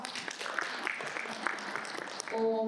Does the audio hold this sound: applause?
yes